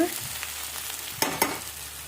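Ginger paste sizzles softly in a hot pan for an egg masala curry. The steady low frying hiss is broken by a couple of sharp stirring scrapes, and there is no talk.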